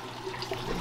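Water flows steadily through the sump of a 150 gallon bow front aquarium, a continuous close rushing and trickling with no talk over it.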